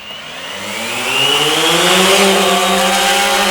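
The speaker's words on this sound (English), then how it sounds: "I'm going to push this button here to do an automatic takeoff" The motors of a XIRO Xplorer quadcopter drone spin up for an automatic takeoff, a loud, close, steady whirring drone that rises in pitch and volume over the first second, then holds a sustained buzzing hum with no talking.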